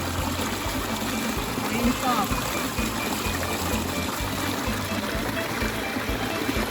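Flowing stream water babbles and trickles in a forest setting while someone talks over it, the water steady beneath a low rhythmic background hum.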